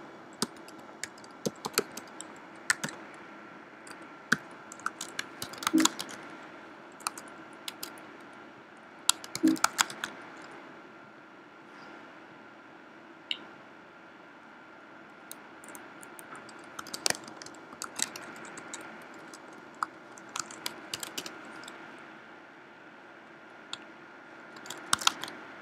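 Password being typed on a computer keyboard during a database setup, heard as irregular bursts of close, crisp key clicks with short pauses between runs, no talking.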